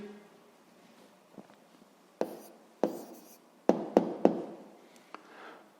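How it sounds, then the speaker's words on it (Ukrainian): Pen strokes and taps of a hand writing down a sixth-grade maths answer: a few sharp ticks spread over quiet seconds, then a quick cluster of louder taps near the end, close and alone. "записуємо відповідь"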